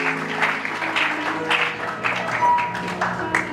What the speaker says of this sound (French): Applaudissons pour la parole du Seigneur.